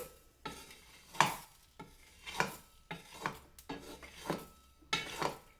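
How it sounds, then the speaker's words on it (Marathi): Lightly roasted ingredients for ambe halad powder scraped from a pan into a container: repeated scraping and stirring strokes in an uneven rhythm with soft metallic clinks, close and moderately quiet, no talk. "आणि आता मी हे सगळं ह्याच्यामध्ये काढून घेते."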